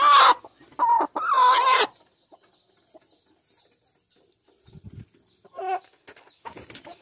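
Hen clucking close by near an egg basket, a few loud squawks and clucks at the start, then quieter rustling and more soft clucks toward the end.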